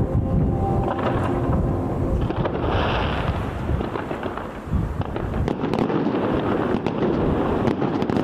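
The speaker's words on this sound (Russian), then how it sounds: "А вечером празднества завершились красочным салютом." Fireworks from an evening festival salute in Ulyanovsk boom and crackle continuously, dense overlapping bursts with sharp pops throughout, loud and echoing outdoors.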